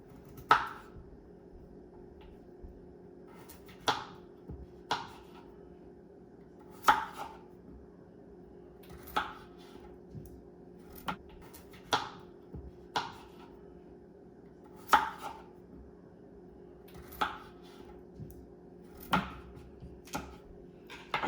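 Lamb chops cut in half with a knife on a cutting board in a home kitchen, giving a dozen or so sharp, separate chopping thuds at irregular intervals over a steady low background hum.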